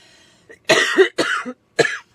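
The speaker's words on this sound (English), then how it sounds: "Figures I gotta start coughing in the middle of a video." A close, loud run of three harsh coughs in quick succession, with a short breathy sound just before them.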